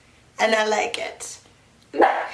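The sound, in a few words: dog barking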